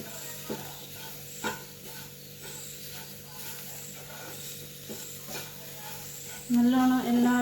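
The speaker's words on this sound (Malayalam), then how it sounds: "അത് നന്നായി ഇളക്കുക." Date and garlic pickle with pickle powder being stirred in a pan, a low continuous sizzle with a few soft scraping strokes of the spoon, followed near the end by a short tonal ringing sound.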